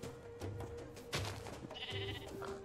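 Sheep bleat in the Minecraft game with the Better Than Wolves mod, giving about three short, quiet bleats in quick succession with nothing else around them.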